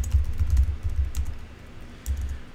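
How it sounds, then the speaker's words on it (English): A computer keyboard is typed on at close range while a username and password are entered, making a quick run of soft, rapid keystrokes that slow toward the end, with no talking. "we're going to type in our username and password."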